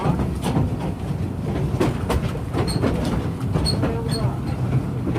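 A narrow gauge railroad train on the Cripple Creek and Victor line rumbles and clatters steadily up close, with a continuous wheel-and-car roar and faint high squeals, while a voice talks over it.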